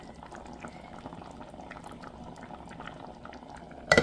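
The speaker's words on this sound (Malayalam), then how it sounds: "കണ്ടില്ലേ, തിളച്ചുകൊണ്ടിരിക്കുക" Sambar bubbling in a clay pot, a quiet continuous simmer with soft pops and gurgles, ending in a brief louder clatter.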